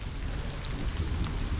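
Heavy rain pours steadily outdoors just after arriving off a train, a dense continuous broadband wash with no voices, close and loud throughout.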